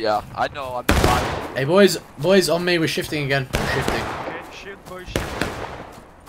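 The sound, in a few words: musket volley in War of Rights video game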